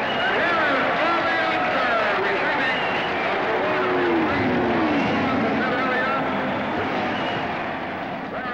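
Race cars at the 1968 Indianapolis 500 roar in a steady, loud drone of engines, with pitch sweeps as cars pass, over crowd noise and a commentator's voice.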